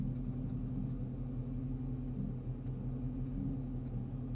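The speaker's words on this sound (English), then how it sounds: "When you turn it on, you hear the car groan." A car groans on being switched on, a low, steady engine rumble droning throughout, a deep groaning hum with a faint higher whine above it and no talking.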